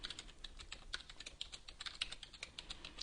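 Fast, steady typing on a computer keyboard as a PL/SQL output statement is keyed in, a dense run of close, crisp key clicks with no pauses and no voices.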